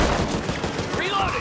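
A loud shotgun blast in the zombie shooter Back 4 Blood, a single sharp burst followed by a short decaying rumble, with game noise in the background.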